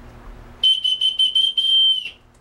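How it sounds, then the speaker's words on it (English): A whistle blown in a quick series of short, shrill toots followed by one longer sustained blast, loud and close, with no talking. "I like that whistle."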